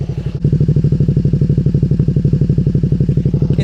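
A classic motorcycle with period modifications idles with its exhaust right at the mic, a loud, steady, rapid pulsing thump that briefly dips at the start before settling into an even beat.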